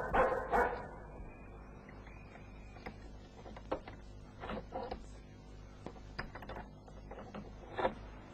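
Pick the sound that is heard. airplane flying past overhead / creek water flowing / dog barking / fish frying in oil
dog barking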